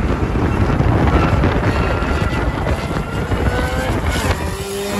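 A supercharged Honda Integra GS-R running 17 psi is driven hard, its engine a steady, loud roar blended with road and wind rush that holds for the full stretch.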